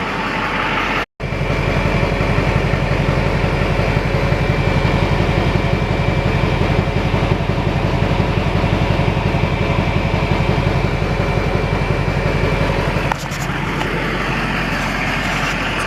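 A Duramax diesel pickup truck idles steadily after injector cleaning, a close, even rhythmic clatter running continuously, with a brief dropout near the start and a slight change in tone near the end.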